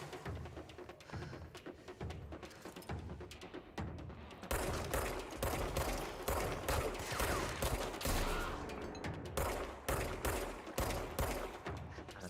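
Rapid gunfire in the video game Control, with shot plants bursting: sustained bursts of automatic fire that grow louder and denser partway through, with sharp repeated reports and booms and no talking.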